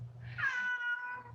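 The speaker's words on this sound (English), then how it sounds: "you hear my kitty cat," A pet cat gives one clear, drawn-out meow close by, rising and then falling, over a low steady hum in an otherwise quiet room.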